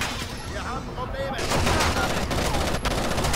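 Rapid Uzi gunfire crackles without a break through a Rainbow Six: Vegas firefight, dense bursts of shots layered over each other, with a voice faintly present under the shooting.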